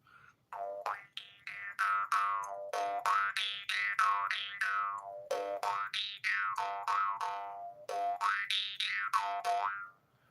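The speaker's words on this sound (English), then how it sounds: "jaw harp." A jaw harp is plucked in a steady rhythmic run of twangy, boinging notes that swoop up and down in pitch, played close and loud for about ten seconds with no talking.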